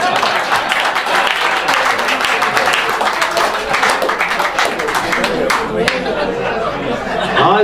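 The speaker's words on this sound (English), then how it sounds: "what about a big round of applause for Fred?" Audience applause at a jazz club comedy set, a dense, loud burst of many hands clapping that carries on steadily for several seconds, mixed with chatter and light laughter from the crowd.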